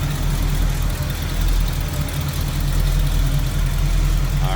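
A 1967 Pontiac Firebird convertible engine idling: a smooth, even low rumble that holds steady throughout, close by, with no talking.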